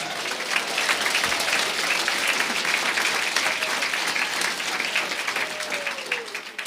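Congregation applauding during a Quechua-language church service, a dense, steady wash of many hands clapping at once, loud and sustained, with faint voices mixed in toward the end.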